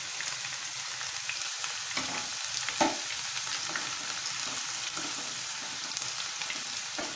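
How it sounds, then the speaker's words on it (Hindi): Onions frying in hot oil with green cardamom, cloves and cinnamon for a Lucknow-style chicken biryani, a steady close sizzle with a louder spatter near three seconds, alone without talk. "तेल गरम हो चुका है। अब इसमें प्याज डाल देंगे।"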